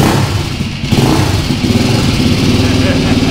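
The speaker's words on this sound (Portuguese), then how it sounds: "Quero escutar o ronco dela aí já pra nós." Honda Titan 353 motorcycle engine running on a dynamometer before a new exhaust, a loud close throbbing idle with light revving pulses while people talk nearby.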